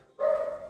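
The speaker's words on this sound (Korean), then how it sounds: "짖는 아이도 있죠" A single dog barks once during a training demonstration on curbing barking, a short sharp bark close by and fairly loud, ringing on briefly before it fades.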